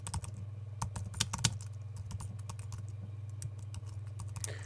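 Someone types on a computer keyboard in quick, uneven bursts of close key clicks over a steady low electrical hum, with no talking.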